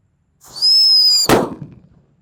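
A Happy Power 3 firecracker lit outdoors in the afternoon gives a shrill whistle for almost a second, then a single sharp, loud bang with a quick trailing rumble.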